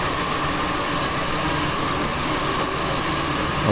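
A box truck passes on an Indonesian highway route between Brebes and Cirebon in Euro Truck Simulator 2, a steady loud broadband engine and road rumble that holds throughout without a break.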